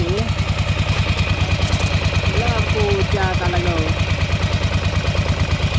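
A Ducati Monster 400 motorcycle idles with one cylinder lacking spark, a loud, rough, rapidly pulsing engine rhythm that runs throughout while someone talks over it.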